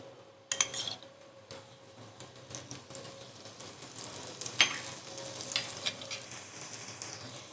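Moong sandwich shaped into a square, frying in oil on a pan over medium-low flame, with extra oil added at the edges: a soft steady sizzle broken by a few clinks and scrapes of a spatula, no talk.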